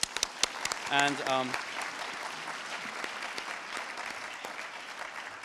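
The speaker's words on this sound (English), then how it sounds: "Let's another round of applause for her as well." An audience at an International Year of Light celebration claps briefly, a short burst of applause that fades fast as a voice starts to speak.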